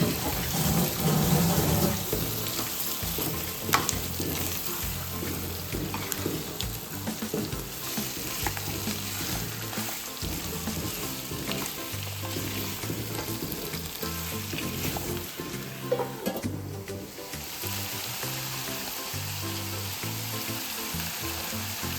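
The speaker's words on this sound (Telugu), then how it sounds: "ఎర్రగా అయినాక చికెన్ వేసుకొని మంచిగా ఫ్రై లేక మంచిగా కలపాలి." Chicken fries in a pan for a fenugreek-leaf chicken curry, giving a steady, close sizzle with stirring scrapes throughout and no talking.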